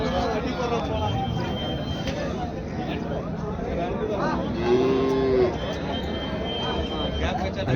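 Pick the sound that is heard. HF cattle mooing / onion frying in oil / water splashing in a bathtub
HF cattle mooing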